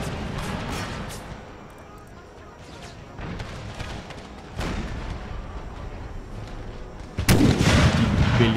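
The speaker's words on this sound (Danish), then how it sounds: "De er også under hård beskydning." Artillery booms and rolling volleys of musket gunfire from an American Civil War battle in Empire: Total War, loud and continuous with a heavy blast burst near the end.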